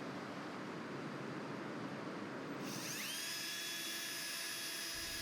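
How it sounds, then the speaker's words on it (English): A power drill whirs steadily throughout, driving a screw to fit a cable railing pivot tensioner receiver against a post, its tone shifting into a higher, strained whine partway as the screw bites and drives in. "Continue drilling until the receiver fits snug up against the post."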